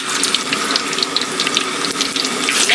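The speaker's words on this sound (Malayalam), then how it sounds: "എണ്ണയിലേക്ക് വെളുത്തുള്ളി ഇടുകയാണ്." Garlic dropped into hot oil for homemade pickle sizzles and crackles in a steady, loud, close hiss without pause.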